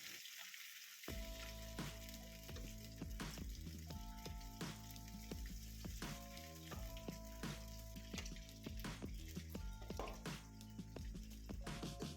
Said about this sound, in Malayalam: ഇനി ഇത് നമുക്ക് വറുത്തെടുക്കാം.